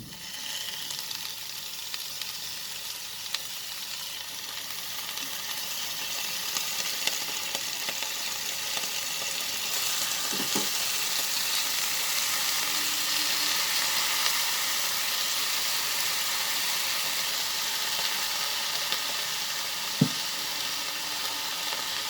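Continuous bright sizzle of eggplant and fenugreek frying in a hot pan, steady and close, with a couple of brief clinks of a utensil.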